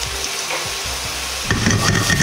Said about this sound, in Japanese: 油に薬味の香りを移すようにして炒めていきます。